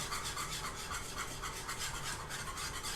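Whisk working a thickening sauce for a roasted vegetable lasagna in a pan over high heat, producing a continuous rhythmic scraping and rasping, about four strokes a second, close and fairly quiet, with no voices.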